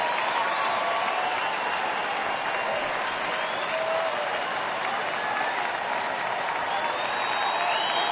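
A packed baseball stadium crowd of nearly 40,000 roars and applauds at Detroit's ballpark as the pitcher nears a strikeout, a loud, sustained wash of cheering and clapping with scattered whistles and shouts.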